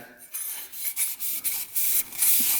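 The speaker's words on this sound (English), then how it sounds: "we're just going to take a Scotch-Brite pad, scratch this up" A Scotch-Brite pad scrubs up and down against the cylinder wall of a YFZ 450 quad engine, making short bursts of close, hissing abrasive rubbing separated by brief pauses.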